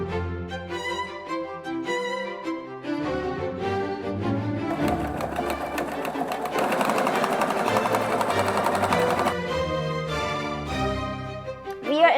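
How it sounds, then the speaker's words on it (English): A sewing machine stitches golden bias tape onto bedsheet fabric for a handmade wedding dress, a steady whirring run in the middle stretch, heard beneath continuous background music. "I'm gonna sew the golden bias tape around it like this"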